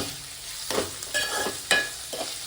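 Onions fry in a pan for chicken fry, with a soft background sizzle broken by a few scraping stirs of a spatula, close and moderately quiet.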